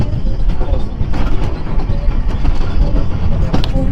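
Angels Flight, a very short funicular railway, rumbles and clatters steadily close by, a continuous mechanical rail noise with faint background voices.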